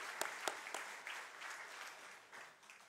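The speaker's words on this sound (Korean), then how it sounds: "우리 윤기봉 장로님을 위해서 박수로 감사를 표하겠습니다" A church congregation applauds during an ordination and installation service at a Korean Baptist church, thanking a retiring elder. Dense, steady clapping fills the whole stretch, with a few sharper individual claps near the start, and no voices over it.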